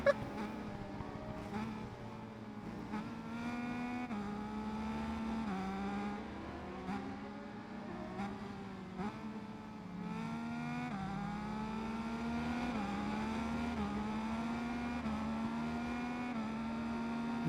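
Motorbike engines from the racing game Ride 5 drone steadily throughout, pitch rising and falling with gear changes and throttle, several bikes blending into a continuous buzzing whine at moderate level.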